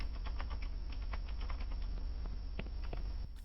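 Rapid, irregular clicking of a computer keyboard as someone types, picked up through an open microphone over a steady low background hum, with short bursts of keystrokes continuing throughout.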